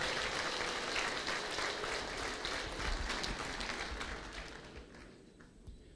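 An audience at a pledge event for a Rwandan development fund claps warmly to welcome a donor, a dense, even round of applause that gradually tapers off toward the end.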